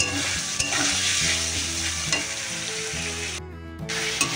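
Tomato, ginger, garlic and onion sautéing in oil with turmeric, salt and chilli powder: a dense, loud sizzle with constant stirring scrapes over a low background hum, briefly dipping near the end.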